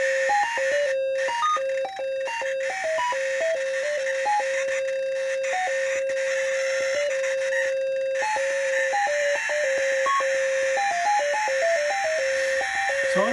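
A synth sample-and-hold pattern steps between a held tone and quick random higher blips, a stepped electronic pattern running continuously with a faint background hiss.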